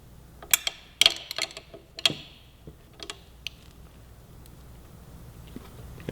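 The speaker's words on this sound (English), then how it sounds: "Finish off with the wrench." A wrench clicks and ratchets in quick, uneven bursts while tightening the exhaust bolt on a 2017 Honda Grom, close and fairly faint, then falls quiet.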